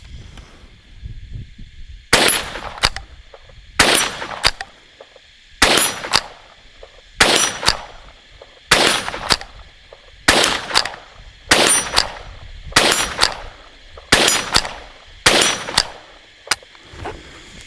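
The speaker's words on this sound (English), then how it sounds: "just see, you know, how quick we can get these shots off" A CZ 515 American bolt-action rifle in .22 WMR fires about eleven sharp, loud shots at even intervals of roughly 1.3 seconds, each followed by brief clicks of the bolt cycling, outdoors with no speech.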